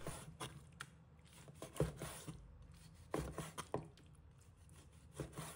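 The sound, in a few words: knife chopping chicken thigh meat on cutting board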